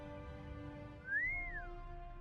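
A single rising-and-falling whistle from a character in the video game The Raven, heard once over a steady background hum with no talking.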